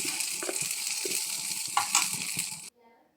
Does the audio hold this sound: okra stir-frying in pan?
yes